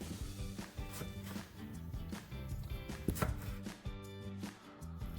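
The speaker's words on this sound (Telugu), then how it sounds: "సో దీన్ని మనం ఇలా ఫింగర్స్ లాగా కట్ చేసుకుంటే" A knife slices cheesy garlic toast into finger strips on a board, a quick series of firm crunchy cuts and knocks in an uneven rhythm, close and clear.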